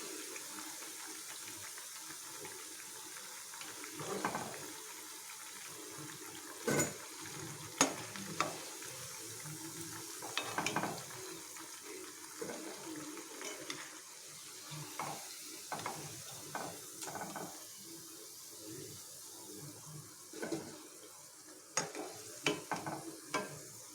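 Onion bondas cook in hot oil for a tea-stall style snack, a steady soft bubbling sizzle with occasional stirring scrapes and clinks, fairly quiet and continuous throughout.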